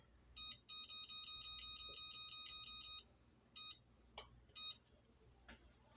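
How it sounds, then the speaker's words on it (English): Kitchen oven timer beeping in a home kitchen during dinner cooking, sounding several bursts of rapid high-pitched electronic beeps, loud and close, separated by short pauses, with faint background noise. "Okay, timer."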